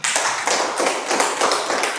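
A class of students claps hands together in a dense, steady patter of many overlapping claps, close and loud for two seconds with no talk.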